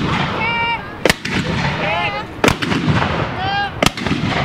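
Medieval hand guns are fired at a historical demonstration, with three sharp, loud bangs spaced more than a second apart over an outdoor background.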